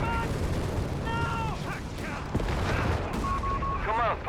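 Dense battle sounds from the World War II strategy game Company of Heroes 3: rolling gunfire and booming artillery, with anti-tank guns firing, heard under continuous excited commentary.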